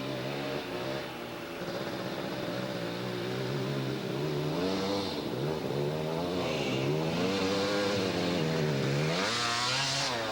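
Dual sport motorcycle engines drone and rev through a water crossing on a trail ride, mid-pitched and continuous with rising and falling pitch swings, moderately loud and with no voices.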